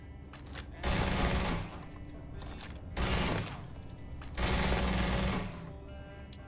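Rifle gunfire in the video game Starfield, three sustained bursts of rapid automatic fire separated by short pauses, loud and close over a low background hum.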